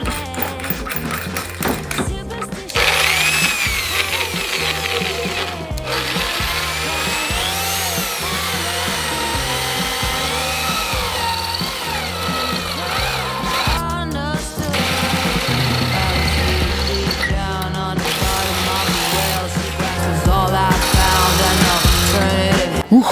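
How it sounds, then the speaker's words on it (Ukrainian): A Pro Craft impact drill bores with a 13 mm bit, a loud steady motor whine with rhythmic hammering that runs for about twenty seconds, broken by brief pauses and changes in load. "давайте спробуємо 13-м, як дрель працює з 13-м сверлом"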